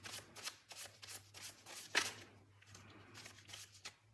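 Tarot cards being shuffled in a run of soft, papery riffles and flutters, close and fairly quiet, with one sharper snap partway through and no talking.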